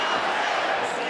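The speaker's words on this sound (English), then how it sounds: "This crowd is electric here in Birmingham, Alabama" An arena crowd at a boxing match in Birmingham, Alabama keeps up a dense, continuous roar of cheering and shouting, loud and close.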